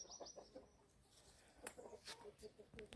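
A hen clucks in short bursts close by, with some faint rustling and brief sharper sounds in between.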